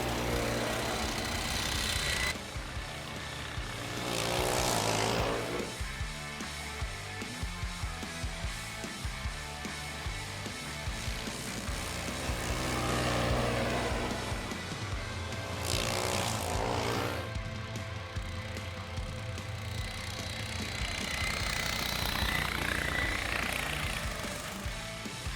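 Homemade sleds, one with a 12 HP engine, race cheap snowmobiles in a winter cross-country event, their small engines droning loudly and steadily throughout, with several passes swelling and fading as the machines go by.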